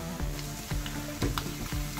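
Pieces of mutton frying in hot oil in a pan give a close, steady sizzle with soft crackles and faint ticking, alone without speech.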